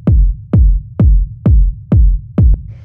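Six punchy techno kick drum hits, a dry kick layered with a reverb-treated kick whose high end is EQ'd away, land at a steady even pulse, each booming low and decaying quickly, loud and alone.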